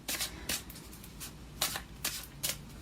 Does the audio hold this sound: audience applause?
no